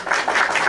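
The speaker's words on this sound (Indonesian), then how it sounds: "Tepuk tangan untuk Tuhan." Brief burst of audience clapping at a debate with a pastor, a short dense patter lasting under a second.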